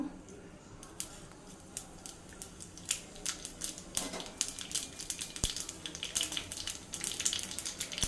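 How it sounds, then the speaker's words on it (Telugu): Mustard seeds and cumin spit and crackle in hot oil while tempering for a buttermilk curry, a quiet, quick scatter of sharp pops that grows denser and livelier over the seconds. "ఇది ఆవాలు వేస్తున్నానండి ఇప్పుడు ఇక్కడ అలాగే కొద్దిగా జీలకర్ర కూడా వేసుకుందాం"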